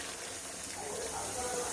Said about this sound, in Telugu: ఇప్పుడు అందులో నేను కొన్ని వాటర్ పోస్తున్నా